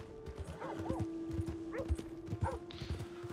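Horse hooves clip-clopping at a steady walking rhythm in the open-world western game Red Dead Redemption 2, fairly faint and close, with a snort or whinny mixed in and no talk.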